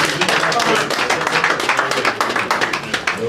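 Audience applause for event organizers at a Nigerian community gathering, a dense steady wash of clapping lasting a few seconds with faint voices mixed in.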